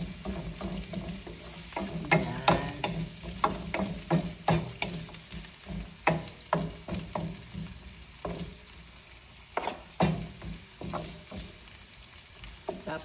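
Ginger frying in a pan for laing, a steady sizzle broken by frequent sharp scraping and clattering stirs at an uneven rhythm, close and fairly loud, with no talking.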